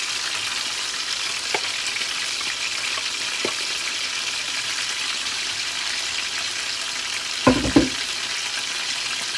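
Chicken pieces sizzle in hot oil for chicken karahi, a steady close frying hiss with a few sharp pops and a louder spatter near the end.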